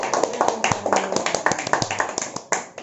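Scattered claps from a classroom of students applauding a student group, with some voices mixed in over a short burst.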